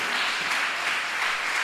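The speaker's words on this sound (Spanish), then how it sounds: "Démosle un aplauso al Señor por eso" A church congregation applauds together during a sermon, a dense steady wash of clapping held at even loudness throughout.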